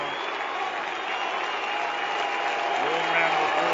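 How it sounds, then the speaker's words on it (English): Sustained crowd applause fills a large stadium at an Australian football match, a dense, steady roar of clapping with faint commentary voices underneath. "Long round of applause."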